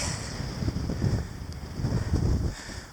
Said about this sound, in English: Wind is getting up a bit though.